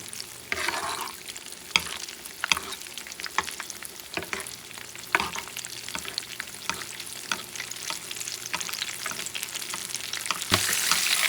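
Fish sizzling and frying steadily in hot oil in a pan for fish and chips, a dense crackling hiss with scattered pops and occasional clatter, with no voices.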